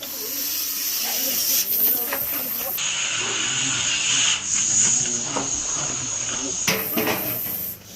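A Russell's viper hisses in long, steady, breathy bursts, loud and close, with some rustling and faint background noise around it.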